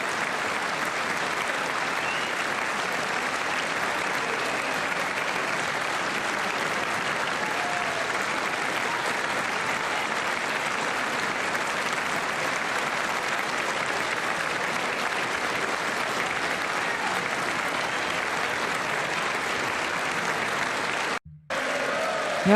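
Applause at the State of the Union address, a large chamber audience clapping in a dense, sustained roar that holds steady for a long stretch before cutting off briefly near the end.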